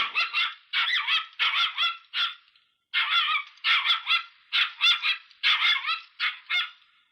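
A dog barks in a long run of loud, close, evenly spaced woofs, with one brief pause partway through and no voices.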